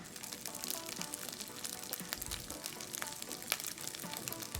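Rice crisps in oil at the bottom of a heated clay pot, giving a soft, steady sizzle and crackle with faint bubbling, low and continuous with no talking.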